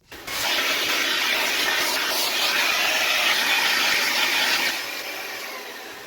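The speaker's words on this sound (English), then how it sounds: "take a vacuum, clean all that out." A vacuum cleaner roars steadily, a loud whooshing suction cleaning out parts of a Redcat Kaiju RC truck, running for several seconds and then dropping in pitch as the airflow changes.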